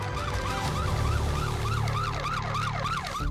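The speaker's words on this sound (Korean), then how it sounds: "사이렌을 울리며 출동하는 구급차를 따라가 보니" A wailing ambulance siren rises and falls in steady sweeps, loud and continuous over a rumbling traffic background at a city intersection.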